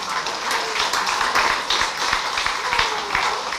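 Audience applause at a jazz concert, a modest crowd clapping steadily with distinct sharp individual claps, close and moderately loud, lasting a few seconds with faint voices mixed in.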